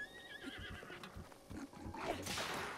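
A horse whinnies in Zelda: Breath of the Wild, a bright rising neigh near the start over hoof clatter and background game sounds, with a louder rushing noise toward the end.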